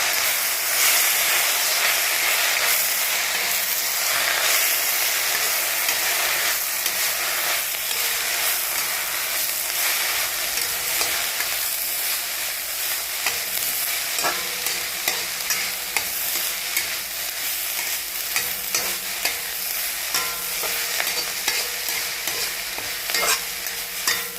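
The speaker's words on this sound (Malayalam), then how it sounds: "എല്ലാം ഇളക്കി കൊടുക്കുക" Drumstick leaves cooked as a stir-fry with chilli powder, turmeric, salt and curry leaves, a dense continuous sizzle and hiss under constant stirring and scraping in the pan, close and loud, without speech.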